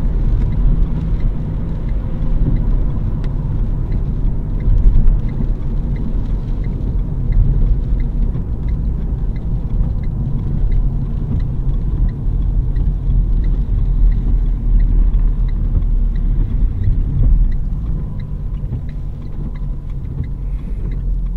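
A car drives steadily during a French driving test, its engine and road noise a constant low rumble throughout, with no talking.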